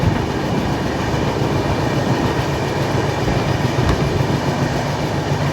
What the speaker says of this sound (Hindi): लगभग 80-90 की स्पीड पे अपनी गाड़ी रुड़की को क्रॉस कर रही है।